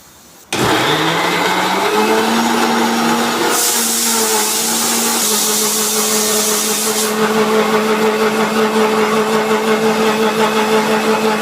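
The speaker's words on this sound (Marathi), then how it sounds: "तर मंडळी आपण याला मिक्सरमध्ये लावून घेऊया" A mixer grinder motor starts abruptly and whirs loudly with a steady high hum, shifting pitch slightly as it blends onion and tomato paste, running continuously without talk.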